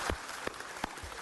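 Applause at a city council meeting, fairly faint and distant, a brief patter of claps with a few sharper hand strikes standing out.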